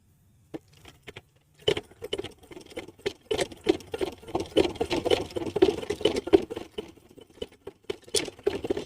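A domestic sewing machine stitches piping onto a blouse, starting after a few faint clicks, then running as a rapid, uneven mechanical patter nearby before slowing to scattered ticks.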